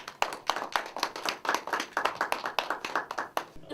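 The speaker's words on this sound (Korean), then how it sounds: "여러분 앞으로 모실 때에 큰 박수로 환영해 주시기를 바랍니다" A forum audience claps to welcome a former ambassador before his lecture, a modest crowd of distinct hand claps in a loose, fairly rhythmic patter at moderate volume.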